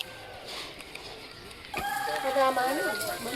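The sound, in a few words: chicken clucking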